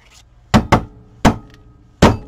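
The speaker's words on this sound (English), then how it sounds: "my punch here is sticking, so I have to kind of hammer it on the table." A sticking craft punch is banged against a tabletop four times, with a quick double knock, a pause, then two single heavy thumps, loud and close with no talking.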